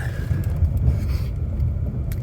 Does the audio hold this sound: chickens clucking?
no